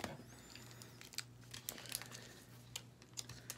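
A foil Pokémon card pack being torn open by hand, with close, quiet crinkling and sharp ripping ticks scattered over a low steady hum.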